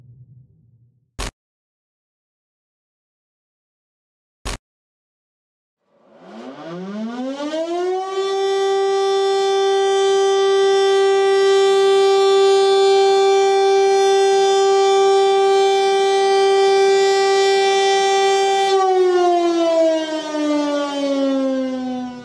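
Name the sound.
civil defense warning siren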